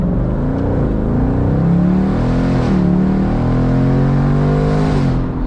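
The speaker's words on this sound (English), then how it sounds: "it really opens that exhaust up." A 2024 Ford Mustang GT Convertible with its Coyote V8 revving loudly as the exhaust opens up, a deep continuous roar with pitch rising and falling through gear changes, close and dominant with no talk.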